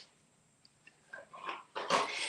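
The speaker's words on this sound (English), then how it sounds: "you may hear some noise in the background again because the Goldens are playing with one another." Golden retrievers playing with one another in the background, giving faint scattered snuffles and small whimpering noises that build into a brief louder scuffle near the end.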